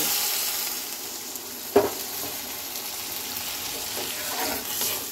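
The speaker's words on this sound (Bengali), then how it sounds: "এই আমি দিয়ে দিচ্ছি জল।" Water splashes into a sizzling pan of tengra fish curry, a brief pour-like burst over a constant close frying hiss that continues afterward with soft stirring noises.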